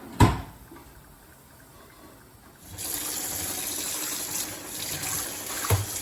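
Water runs steadily into a kitchen sink after a brief clunk at the start, a continuous close rushing stream that lasts to the end with a small knock near the finish.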